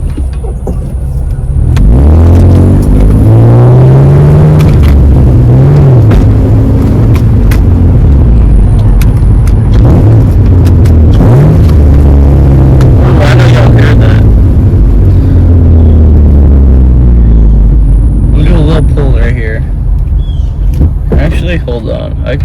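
An Acura TL engine revving through downshifts, with rising and falling pitch sweeps as gears change, loud and close from the cabin, mostly under someone talking.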